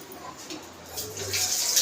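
Dishes are washed under a running kitchen tap, with the splash and trickle of water rising and falling and brief clinks, moderately close. No one speaks.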